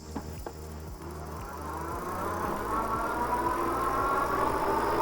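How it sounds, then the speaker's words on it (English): A Ride1Up Rift ST fat-tire e-bike pulling away at full throttle, its electric motor whine steadily rising in pitch over rolling tire and road noise, close and fairly loud. "let's just give it a full throttle test as we go now"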